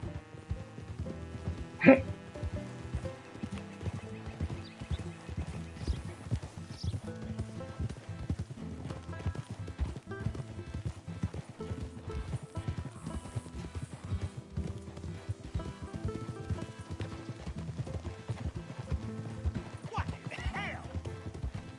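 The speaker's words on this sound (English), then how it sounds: "It's just a donkey, idiot." Donkey hooves clip-clop steadily in Red Dead Redemption 2, a quick rhythmic patter of hoofbeats that continues throughout, mixed with a dense bed of other game sound.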